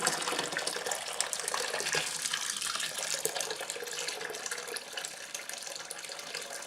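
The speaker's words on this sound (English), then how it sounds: "Now I've just boiled the kettle, so the next thing I'm going to do is put boiling water in here as well." Boiling water from a kettle pours steadily into a tub, a continuous splashing gush at moderate level with no break and no voices.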